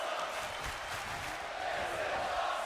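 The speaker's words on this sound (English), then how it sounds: "The crowd loving every bit of this." A wrestling arena crowd in WWE 2K24 roars steadily, a dense, continuous wash of cheering and noise that holds at an even level throughout.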